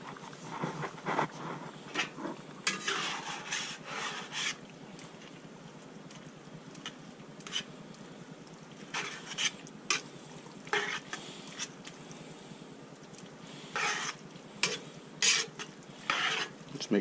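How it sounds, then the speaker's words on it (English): Canned smoked rough fish being stirred in a pot, with intermittent scraping and wet clattering strokes close up that come in several bursts and pause between them, with no one talking. "I'll just give it a stir."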